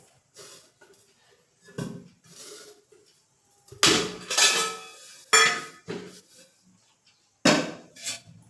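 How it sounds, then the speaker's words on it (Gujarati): Metal clanks and scrapes as a kadhai is handled and set on a gas stove, several sharp knocks and rattles spaced irregularly with quiet gaps between them. "ગેસ ચાલુ કરી લેશું તેના પર એક કઢાઈ રાખીશ"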